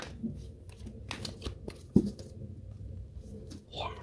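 Tarot cards are shuffled close by in a quiet room, soft papery riffles and taps scattered across a few seconds, with one sharper snap near the middle.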